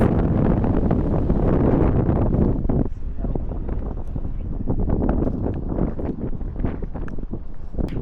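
Strong wind buffets the microphone on a hike up to Pride Rock, a loud, continuous roar with gusty surges and a brief lull partway through.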